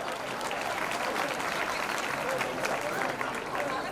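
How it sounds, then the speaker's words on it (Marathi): An audience at a Ladshakhiya Vani community Kulswamini Pournima festival applauds steadily, a soft, distant patter of many hands that continues evenly throughout. "टाळ्यांचा गजर या माता पितांसाठी सुद्धा असू द्या"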